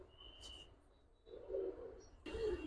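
Two low, throaty coos from a Giribaz Budapest-coloured pigeon, each about half a second long and close by, with a faint thin whistle and a light chirp earlier in a quiet setting.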